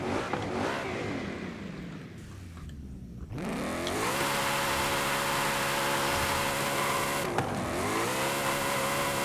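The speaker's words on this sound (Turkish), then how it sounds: "Ford Mustang RTR." Ford Mustang RTR, car number 88, in the racing game Forza Horizon 5, revving hard with a sustained loud engine roar that climbs in pitch, broken by a brief drop around the third second and another dip near the end.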